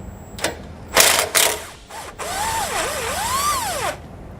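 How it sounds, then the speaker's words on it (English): A ratchet and socket work on the sway bar bracket bolts of a 2017 Jayco Redhawk motorhome: a few quick clicking bursts, then a whirring tool spins with rising and falling pitch, close and fairly loud. "So we're going to want to grab a 15mm socket,"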